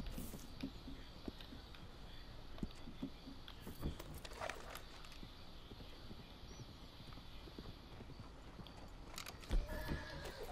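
A mare in Red Dead Redemption 2 whinnies while her hooves clip-clop in an uneven, stop-start gait, fairly quiet and close, with a louder thud near the end.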